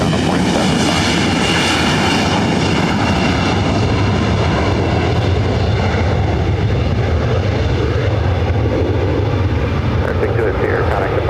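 Aircraft engines at LAX airport roar loud and close in a continuous, broad thunder that holds steady for the whole stretch, with radio chatter mixed in.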